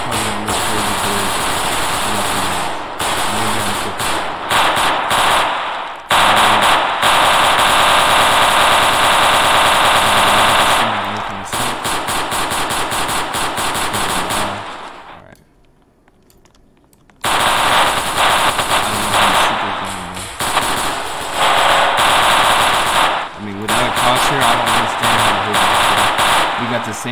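A drum-magazine gun in the Roblox game Harlem Heights fires in long, loud, dense automatic bursts, with a short pause midway before the rapid fire resumes.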